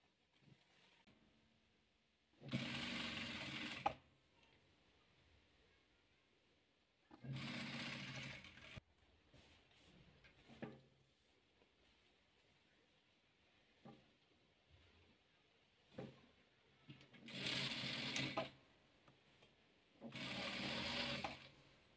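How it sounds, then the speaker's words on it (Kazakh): A sewing machine stitches rows of patchwork pieces in four loud, steady bursts, each lasting about one to two seconds, separated by quiet pauses with faint handling sounds. "Енді осыны тігіп аламыз."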